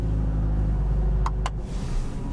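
Engine of a 2023 Mercedes-AMG CLA 45 Coupe Edition 55 running close by, a steady deep rumble with little change in pitch and a couple of faint short ticks partway through.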